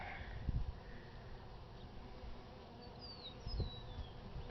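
Honey bees buzz faintly and steadily around an open hive during a spring inspection, with a couple of soft thumps of handling the frames.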